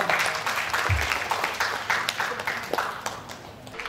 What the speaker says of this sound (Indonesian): Kita berikan aplaus juga untuk narasumber